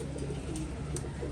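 Pigeons coo in soft, repeated low throaty calls, close by and steady over a faint background, with no talking.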